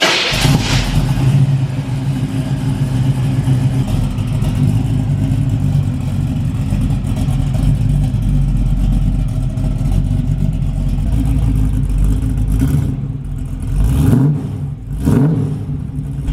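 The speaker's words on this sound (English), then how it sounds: "Definitely a lot deeper of a tone than the other exhaust that was on the car" A 454 big block V8 in a 1969 Camaro with headers and mufflers rumbles steadily with a deep, throaty exhaust tone, loud and close, with a couple of revs near the end.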